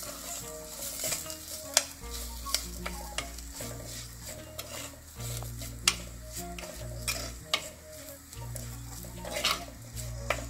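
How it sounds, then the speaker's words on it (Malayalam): Curry masala for a sardine fish curry being stirred in a pan on low flame, gentle sizzling with sharp periodic clinks and scrapes of the spoon against the pan, close, over a low background hum. "ഇത് നന്നായി യോജിപ്പിക്കാം. ലോ ഫ്ലെയിമിലാണ് ഞാൻ കുക്ക് ചെയ്യുന്നത്."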